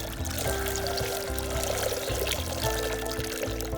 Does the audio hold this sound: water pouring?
yes